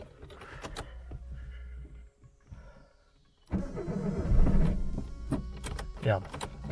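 A Citroën AX engine cranks and catches after some quiet fumbling, the starter whirring into a loud rough burst of engine noise close by, with people talking around it.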